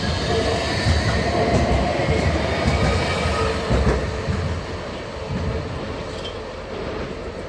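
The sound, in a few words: tram passing at Nottingham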